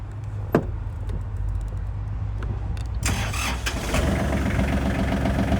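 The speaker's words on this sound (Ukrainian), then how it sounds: "Трактор заводиться з півоборту." A Kubota GL241 tractor diesel engine cranks and catches after a few seconds, then settles into a steady, loud rumbling idle nearby.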